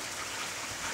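Rain falling in the evening in Kampung Batang Mitus, Tutong, an even, continuous wash of drops with no voices over it.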